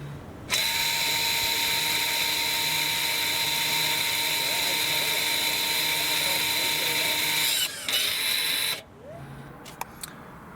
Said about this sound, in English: the motor will start working in the back of the vehicle